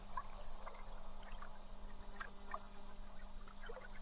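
Gentle water lapping at a lakeside at dusk, faint soft trickles and small splashes over a low steady hum, calm and continuous.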